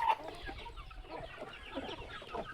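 A young giant Índio rooster clucks softly in a series of short, low calls, faint and close-by in a quiet farmyard.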